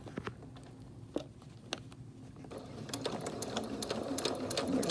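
A Singer sewing machine stitches along the edge of a fabric face mask. It starts with sparse clicks and soft taps, then settles into a steadier, faster mechanical chatter with no talking.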